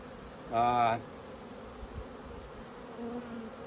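Honey bees buzzing around a swarm trap beehive, a soft steady hum with one loud close pass and a quieter drone near the end.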